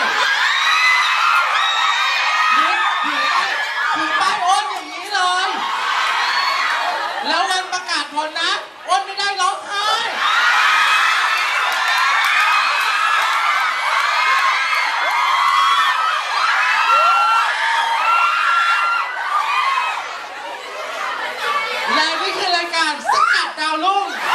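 A crowd at a summer concert DVD autograph signing at a shopping-mall store cheers and whoops, with excited shrieks and shouts mixed with a loud speaking voice throughout.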